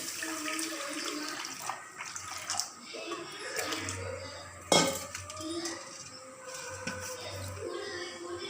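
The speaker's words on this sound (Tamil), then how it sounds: "இப்போ தண்ணி ஊற்றிக்கிறணும்." Water is poured into a pan while making a homemade kashayam herbal remedy in a kitchen, a close splashing pour with clinks of metal cookware and a sharp knock midway.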